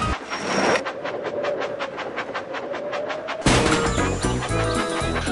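Toy train engine in a Thomas and Friends Magical Tracks game: rapid rhythmic chugging with a steady tone, then a sudden loud crash-like burst into a busy, rumbling rush of game sound effects.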